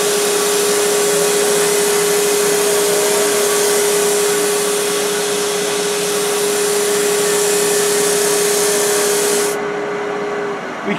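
A Hope Pro Sander with 120-grit working wood spinning on a lathe at about 2000 RPM gives a loud, steady whooshing whir over a constant hum, easing off near the end.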